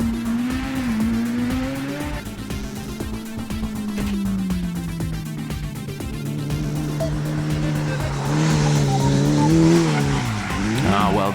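An Ultimate Mini race car with Monster CAD six-pot calipers and vented discs lapping a track, its engine droning and rising in pitch as it accelerates, with tyres squealing, loud and close throughout.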